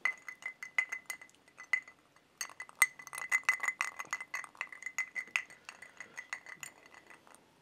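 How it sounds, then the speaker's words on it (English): A finger stirs bourbon in a glass, producing a long run of bright, rapid clinks and taps against the glass, irregular but nearly continuous, close and clear with no voices. "Finger stir."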